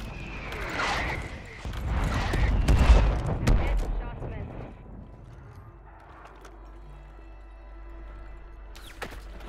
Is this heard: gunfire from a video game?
yes